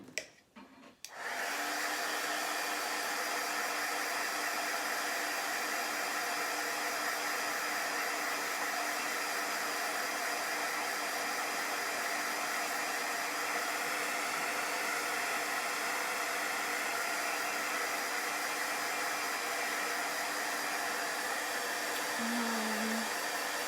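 A handheld dryer blows steadily to dry chalk paste on an old key, a loud close whooshing hum that switches on after a brief clatter and then runs unbroken and even for over twenty seconds.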